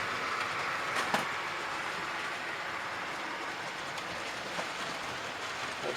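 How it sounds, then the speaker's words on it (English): A model train, an S15 locomotive on a layout, rumbles past steadily with a broad, continuous rushing noise and a few faint clicks of wheels over rail joints, no voices. "Here comes the S15, here she comes with a new train."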